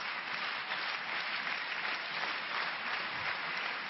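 Indoor crowd at a 2009 Denmark Open women's doubles badminton match cheering and applauding, a steady wash of clapping and voices held at an even level throughout, with no talk over it.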